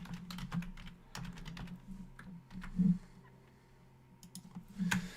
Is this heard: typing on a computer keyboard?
yes